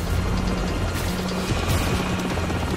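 A helicopter in Call of Duty 4: Modern Warfare on Xbox 360 drones on with a steady rotor hum and low throbbing. The sound is loud and continuous throughout, with no voices.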